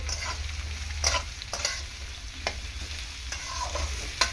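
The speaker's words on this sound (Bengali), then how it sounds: "এখানে চিচিঙ্গেটা আমি দিয়ে দিচ্ছি। একটুখানি নাড়াচাড়া করতেই দেখছো কতটা তেল বেরিয়ে গিয়েছে মাছের চর্বি থেকে" Snake gourd stir-fries in oil rendered from fish fat, a soft continuous frying sizzle punctuated by sharp, distinct spatula scrapes roughly every half second to second, close up, with no speech.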